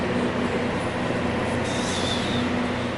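A train rolls near Poroy station outside Cusco, Peru, with a steady loud rumble of carriages, a thin metallic wheel squeal and faint rail clatter throughout, and no talking.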